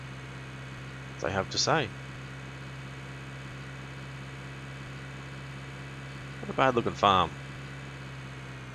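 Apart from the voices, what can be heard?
tractor engine idling in Cattle and Crops farming video game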